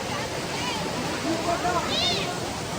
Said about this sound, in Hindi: ये देखिए पानी कैसे निकल रहा है यहाँ पे